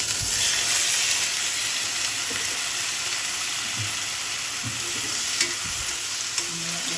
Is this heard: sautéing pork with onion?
yes